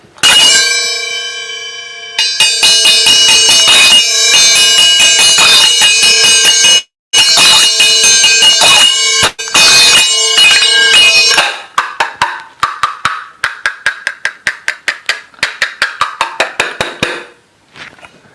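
Chapa, small brass hand cymbals, clash in rapid bright metallic hits with sustained shimmering ringing, then switch to a sequence of quick, lighter taps that fade out near the end.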